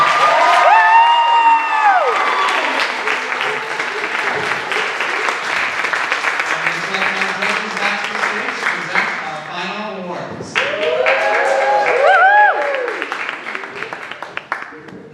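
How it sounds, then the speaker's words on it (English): A talent-show audience claps, cheers and whoops as finalists return to the stage, a loud, sustained wall of applause with shouts and voices mixed throughout. "give them a big round of applause"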